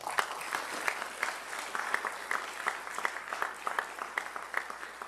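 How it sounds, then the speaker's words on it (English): Audience applause at a police academy cadet class graduation ceremony, a steady run of clapping from a large crowd that holds for several seconds with no talk over it. "Let's also give them a round of applause."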